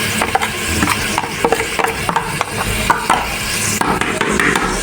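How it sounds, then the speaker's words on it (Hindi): Spiced beef seasoned with black pepper is stirred in a pot for bhuna gosht, giving close scraping and clattering strokes over a constant sizzle. "इसको अच्छी तरह से मिक्स करेंगे।"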